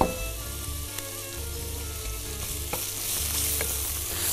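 Chicken frying with garlic in a pan gives a continuous close sizzle, broken by scraping stirs and a few light utensil taps, with no voices.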